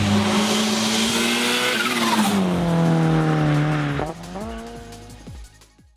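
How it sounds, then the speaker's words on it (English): A twin-charged 1997 Pontiac Grand Prix GTP V6, both turbocharged and supercharged, drives hard with a loud, rising engine drone and tire squeal, then the pitch drops and climbs again as it shifts and accelerates. "So what's it like driving a twin charged Pontiac GTP?"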